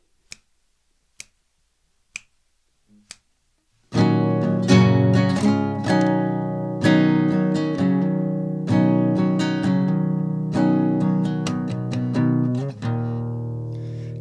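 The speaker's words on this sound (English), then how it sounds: "So altogether this first part of section 1 should sound like this." Acoustic guitar fingerstyle rendition: a few sharp isolated taps or snaps, then loud, full sustained chords ringing close and steady, with a low rhythmic pulse.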